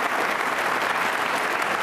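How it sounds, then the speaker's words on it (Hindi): Loud, dense applause from an audience at an NCC cadets' Independence Day quiz show, sustained evenly for the whole short stretch with no talking. "जोरदार तालियां बजाइए एक बार आप"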